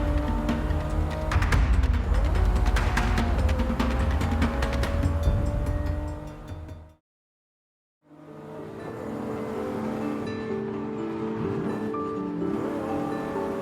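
A Japanese performance car is driven, its engine and road noise droning steadily before cutting out for about a second and then resuming.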